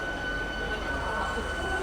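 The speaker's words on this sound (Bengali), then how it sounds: "চলো, ট্রেন কিন্তু ছেড়ে দিয়েছে" A local train pulling out of Howrah station, heard as a steady low rumble and rolling noise from inside the carriage, with faint voices mixed in.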